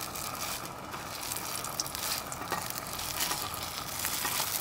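Potato cake batter, with no egg in it, dropped into a hot camp frying pan sizzles steadily at close range, a continuous fry with a few soft spatters and no voices.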